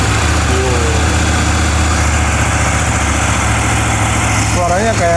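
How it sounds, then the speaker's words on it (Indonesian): An 800 cc two-cylinder motorcycle engine and exhaust run at a steady idle, loud and close, with a continuous low rumble throughout. "kalian pasti penasaran suara knalpot dan suara mesin dari 800 cc"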